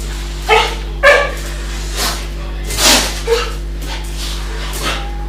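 A few sharp dog barks, two close together near the start and softer ones later, over a steady electrical hum.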